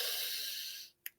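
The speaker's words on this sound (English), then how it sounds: "Deep breath in." A long, deep breath drawn in slowly and close to the microphone, a soft steady airy rush lasting nearly a second, then a brief faint puff after a pause.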